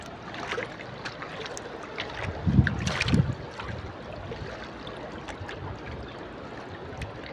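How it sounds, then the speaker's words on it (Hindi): Steady rushing flood water with broad turbulent noise throughout, a brief louder surge in the middle, and wind buffeting the microphone outdoors. "देख रहे हो किस तरह गोली की तरह पानी जा रहा है।"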